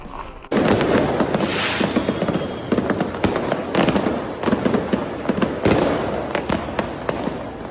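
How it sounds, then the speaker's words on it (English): Fireworks burst over Berlin, Germany in a rapid, irregular barrage of loud cracks and booms that continues throughout, each sharp report followed by crackling. "The spontaneous fireworks displays in Berlin, Germany serve as a reminder that a celebration is only truly complete"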